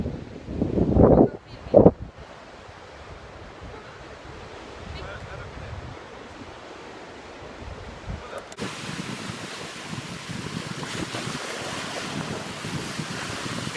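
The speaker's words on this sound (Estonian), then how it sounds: "neid laineid üle nende kivide tulemas" Waves wash and surge steadily against coastal rocks in Australia, with gusty wind buffeting the microphone and a couple of loud bumps near the start.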